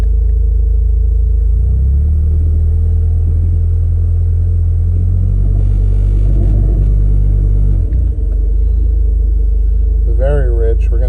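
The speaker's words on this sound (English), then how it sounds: "Let's put her in drive. Okay. Let's do a brake boost to see what those numbers are." Car engine idling in a low rumble, then rising into a sustained rev held against the brakes in drive before dropping back, close and loud, with a voice briefly speaking near the end.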